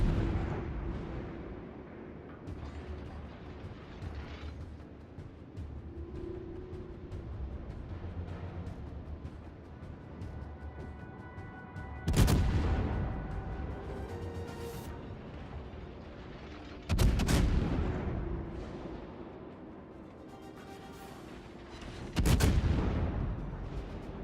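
Naval game battle: a low rumbling background is broken by three heavy, sharp blasts of ship gunfire and turret explosions, spaced several seconds apart, each followed by a rolling decay.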